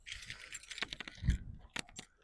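A set of car keys jingles briefly and faintly nearby, with a few light metallic clinks and a soft handling thump in a quiet space.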